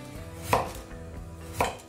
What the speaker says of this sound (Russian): И кубиками нарезаем картошку.